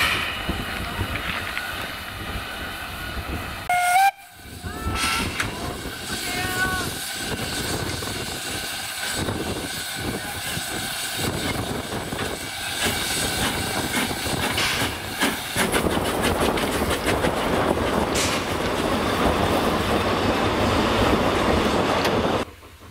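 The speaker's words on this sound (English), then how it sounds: "The service train eventually arrived, hauled not by the expected K-57, but by a K-45 two-eight-oh tank" A narrow-gauge steam train in Germany, hauled by a K-45 2-8-0 tank locomotive, rumbles and hisses steadily for a long stretch, with a short whistle-like tone early and a gradual rise in noise toward the end.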